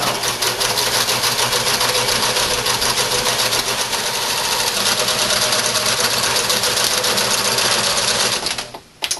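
A sewing machine runs a zigzag stitch along the seam of a fabric eco shopping bag, a steady, fast mechanical whirr with a rapid needle rhythm that holds for most of the stretch before cutting off near the end.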